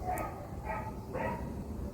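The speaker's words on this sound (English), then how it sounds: "a whole cornucopia of howling and barking dogs that just all of a sudden set off" Dogs bark and howl from distant kennels below a Tuscan hillside view in Italy, several faint yelps and woofs rising in short bursts over a low background rumble.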